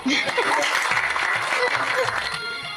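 A group applauds with dense, continuous clapping that fades slightly at the end, mixed with voices talking.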